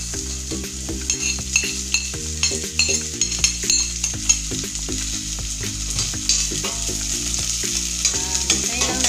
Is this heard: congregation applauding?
no